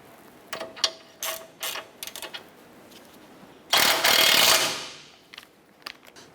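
Ratchet tightening the outer tie rod nut on a 2008-2012 Honda Accord during wheel bearing work, heard as short bursts of clicking, then a louder sustained run of rapid ratcheting followed by a few more isolated clicks.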